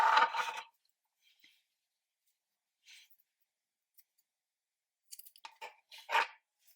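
Scissors snip the yarn of a crochet galah pencil-topper toy: one crisp, close cutting burst at the start, then a few faint clicks and short handling rustles after a quiet gap.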